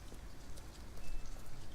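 Rain falls in the Detroit: Become Human video game, a soft, continuous patter of drops hitting surfaces, fairly quiet and steady throughout with no voices.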